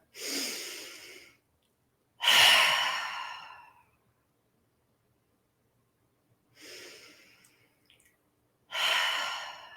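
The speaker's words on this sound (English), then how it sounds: "we can take 3 breaths to end this topic" Several slow, audible breaths in and out, each a soft airy rush lasting over a second, separated by silent pauses, near and clear with no talk.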